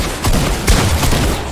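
Video game gunfire in dense, loud automatic bursts fills a brief moment, rapid overlapping shots close and continuous.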